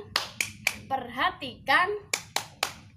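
A teacher leads a rhythmic 'tepuk fokus' hand-clapping routine for a fifth-grade class: sharp, close claps in a quick set of three, spoken words, then another set of three claps.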